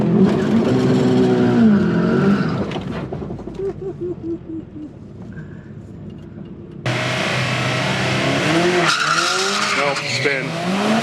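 A 500 hp Miata drag car spins out at the strip, its engine revving and tires squealing and skidding loudly, then a burst of louder engine and tire noise near the end, with people talking over it.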